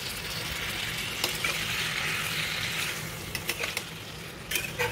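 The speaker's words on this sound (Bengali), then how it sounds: "যতক্ষণ ভালোভাবে সবজিগুলোর মধ্যে মশলাটা লেগে যায় ততক্ষণ পর্যন্ত আমরা একটু কষাবো ভালো করে।" Pointed gourd with spices sautéing in a pan, a soft steady sizzle under scraping stirs and a few light utensil knocks near the end, fairly quiet, no talk.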